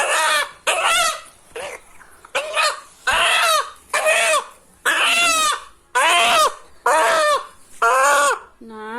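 A desi rooster clucks and squawks close by in a rapid series of about ten loud, separate calls with brief pauses between them.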